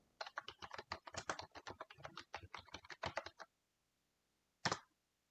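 Rapid, even keystrokes on a computer keyboard while text is entered for a Python program, a quick run of soft clicks that stops, followed after a pause by one sharper key press, likely the Enter key.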